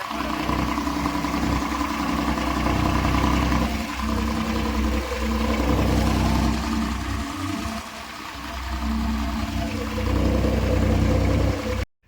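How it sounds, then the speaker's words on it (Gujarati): A loud, steady tractor engine rumbles close up, idling with a deep continuous drone that dips briefly before cutting off abruptly. "હાલો તો વાવન કરી તો ચાલુ અત્યારે હું ટ્રેક્ટર નાખું પેલા પાછળ"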